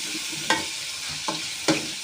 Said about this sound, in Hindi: अब इसको हम अच्छे तरीके से भूनेंगे।